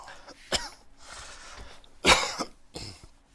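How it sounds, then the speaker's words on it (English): Three separate coughs, sharp and close, with the middle one the loudest and longest, spaced over a few seconds with quiet in between. "I'm coughing again."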